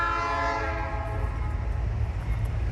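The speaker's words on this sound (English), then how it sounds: "And here comes the train." A freight train horn blares loudly at the start and fades, leaving the heavy low rumble of a locomotive-led freight train with two SD40s climbing a hill, rolling steadily close by.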